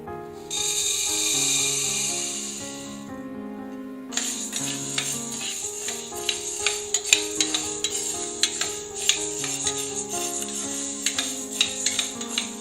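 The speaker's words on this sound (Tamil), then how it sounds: "இதுல நம்ம பச்சைப்பயிறு வறுக்க போறோம்" Green gram is dry-roasted in a cooker pan. A brief hiss comes first, then a spoon scrapes and taps the pan in a steady rhythm of close, distinct strokes with a faint sizzle underneath.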